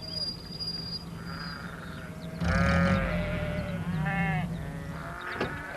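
A sheep bleats a few times in a garden over a steady outdoor background of insects chirping and faint bird calls.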